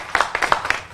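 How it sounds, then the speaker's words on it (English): A brief burst of scattered applause at a press conference on CARES Act funding in Chautauqua County, a handful of distinct claps in quick succession. "Definitely deserving of a round of applause"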